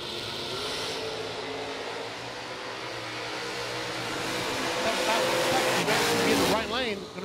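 Drag racing cars, including a 1987 Camaro, roaring down the strip, a loud sustained engine blast that swells toward the end, with an announcer talking over it.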